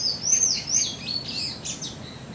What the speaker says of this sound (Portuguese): E a natureza nos prestigiando, o passarinho cantando de fundo